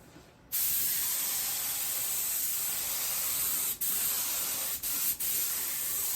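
A spray gun hisses steadily after a brief pause, a fine continuous mist broken by three short interruptions near the end.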